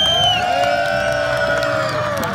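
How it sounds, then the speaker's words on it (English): A street performance crowd cheers and whoops loudly and steadily from close by, a dense wash of voices with the occasional shout rising out of it. "please give them a huge round of applause"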